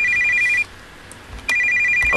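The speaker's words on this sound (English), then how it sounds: "Why is the phone ringing?" In a horror video game, a telephone rings in two loud, electronic trilling bursts separated by a short pause, heard alone with no voices.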